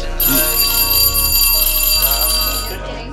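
A classroom bell rings with a loud, sustained tone over bass-heavy music that plays throughout.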